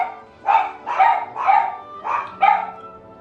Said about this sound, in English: We're babysitting Coco's girlfriend, my parents' dog. So now there's 2 dogs